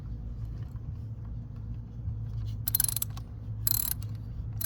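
Ratchet clicking from a 10 mm ratchet loosening a bolt on a 2021 Hyundai Sonata SE during ignition coil work, two short bursts of clicks close up over a low steady background hum.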